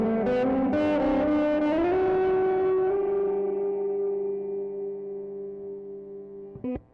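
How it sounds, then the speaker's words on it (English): A Walrus Audio Melee pedal drives an electric guitar through distortion and reverb: a few gritty picked notes bloom into one sustained, ringing chord that slowly decays in a wash of reverb, ending with a brief click. "if you bring it either all the way, the distortion all the way down, and you just have a lot more reverb"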